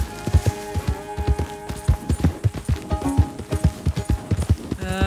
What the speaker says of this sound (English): My horse runs away.